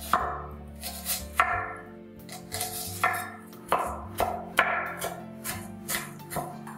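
Onion is chopped on a board for a macaroni and chicken dish, with evenly spaced, crisp knife strikes about once a second, close and clear over soft background music.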